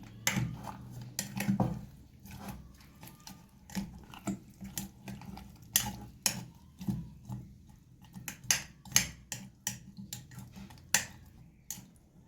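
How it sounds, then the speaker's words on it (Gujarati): Mango pickle pieces stirred with oil in a bowl, making a quiet series of close clinks and scrapes of a utensil against the container in irregular strokes, with no speech. "આપણે એમાં તેલ મિક્સ કરી લીધું છે અને આપણે આ રીતે થોડુંક હલાવી લઈશું"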